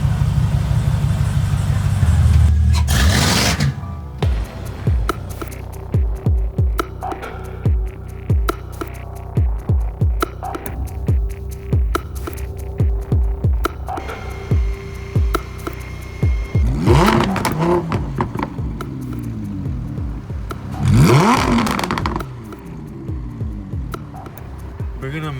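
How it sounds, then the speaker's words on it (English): A car's engine idles steadily after a fuel pump replacement, a low throbbing hum that swells with a couple of revs, while people talk nearby over it. "So we replaced the fuel pump. We got it started now. It's running great."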